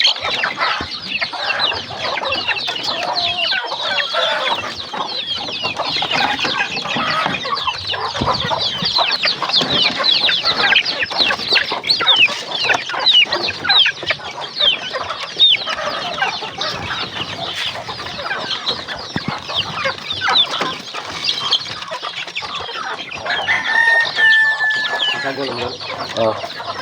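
A flock of chickens clucks and chatters continuously, with busy overlapping calls close by and a rooster-like cry near the end.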